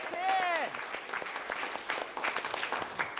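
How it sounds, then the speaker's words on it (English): A church audience gives a round of applause for a Big Ten championship team, beginning with a loud cheer or whoop and then settling into scattered, moderately loud claps. "let's give them applause one more time"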